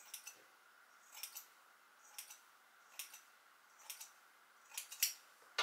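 Scissors snipping 4C natural hair during a tapered trim, a series of faint crisp snips in small clusters at a roughly even pace, close and quiet with no talking.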